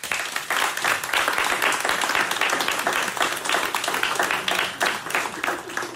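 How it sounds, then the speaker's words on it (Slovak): An audience applauds in a radio café, producing steady, close, lively clapping that keeps up at an even level from start to finish. "Ten hlavní potlesk ovšem bude patřit našemu dnešnímu hostu"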